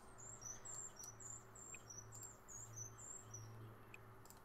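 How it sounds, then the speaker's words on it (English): Birds chirping in The Sims 4, a series of short, high, repeated tweets running across the whole stretch over a steady low ambient hum, fairly faint and without talk. "can those birds like hush up?"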